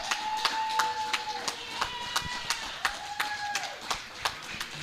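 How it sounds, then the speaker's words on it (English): Scattered, uneven hand claps from an audience at a wrestling show, cheering for the tag teams, with faint tonal whistles or crowd noise running underneath; a sparse, moderately quiet patter rather than a full ovation. "Give them all a round of applause."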